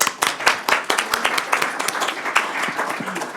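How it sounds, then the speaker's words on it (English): Audience applause at an initiative launch event, a dense burst of close hand claps that rises quickly, then gradually thins and fades over a few seconds. "Going to give them a little applause."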